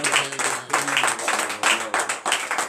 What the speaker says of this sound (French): Encore de vive acclamation